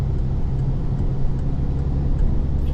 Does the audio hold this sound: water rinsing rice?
no